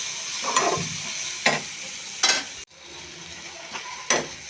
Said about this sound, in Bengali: মশলাটাকে ভালো করে কষিয়ে নিই